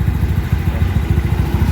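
A Yamaha Mio i 125 scooter engine running on an aftermarket Pitsbike ECU V4, with a 59 mm bore kit, 28 mm throttle body and stage 2 cam, idling close by in a steady, lumpy, pulsing rhythm with no talk.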